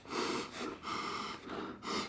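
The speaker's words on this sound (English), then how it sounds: "Ooh, man, you always gotta take a sniff" Several deep, rhythmic sniffs at close range as someone smells a newly unboxed fishing reel, with about four breathy inhalations in quick succession.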